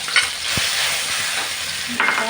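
Pounded chili and garlic tossed into hot oil in a wok, sizzling loudly and continuously with a brief stir clank near the start, while catfish stir-fry preparation carries on and no one speaks.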